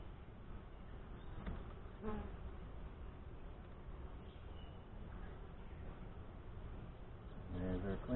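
Honey bees from a Saskatraz daughter colony hum during a hive inspection, a faint continuous buzz with a few louder passes close by.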